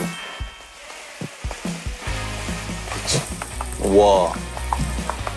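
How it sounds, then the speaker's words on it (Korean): Rice fries in hot oil for nurungji, a close, loud sizzle that flares and crackles as the grains hit the oil, with a brief exclaiming voice over it. "쌀 튀기는 거는 언제까지 튀기나?"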